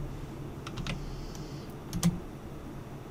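Keys tapped on a computer keyboard in a few quick, light clicks with short pauses, close and quiet, alone without speech.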